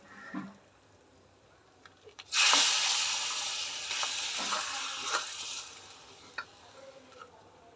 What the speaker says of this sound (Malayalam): ഇനി പിന്നെ ഞാൻ ഇതിലോട്ട് കടുക് വറുത്ത് ചേർക്കുന്നുണ്ട്